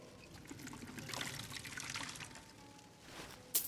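Water poured to refill a water skin in the Skyrim video game, a soft trickling pour of liquid heard faintly, ending with a brief sharp clink.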